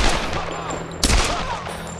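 Rapid pistol shots from Tomb Raider 2013 crack close and loud in a quick burst, with one sharper, heavier report near the middle and a brief tail of game sound after.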